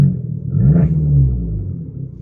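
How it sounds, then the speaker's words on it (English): A warm Abarth engine fitted with a vent filter is revved once. A deep, close rumble swells and fades over about a second, with no talk. "So the car is warm right now, so we're all good to give it a rev"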